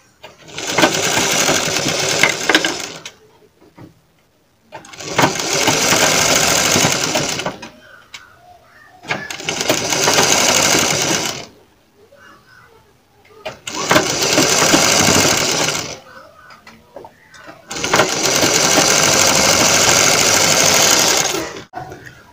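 A sewing machine stitches piping onto a kurti in steady bursts, five loud runs of rapid whirring each lasting a couple of seconds, separated by short pauses.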